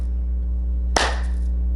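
A single sharp hand clap cracks out close and loud near the middle, over a steady low electrical hum.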